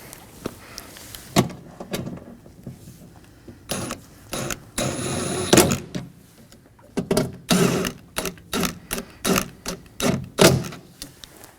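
Ratchet tightening bolts on a rear door window regulator of a 2020-2027 Toyota Corolla: a quick clicking run, then a series of short, close ratcheting bursts separated by brief pauses, with no voices.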